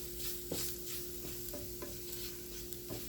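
Flour cooks with sausage meat in a pan for gravy, making a quiet, steady sizzle broken by a few soft stirring scrapes and taps.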